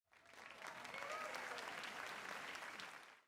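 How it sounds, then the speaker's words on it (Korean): A roomful of people claps steadily for about three seconds, the applause swelling quickly and tapering off at the end. "박수 소리가 우렁찼지만"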